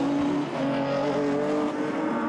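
Rallycross cars, a black Peugeot and a white Citroën Saxo, race at Pont de Ruan with loud, sustained engines under a race commentator.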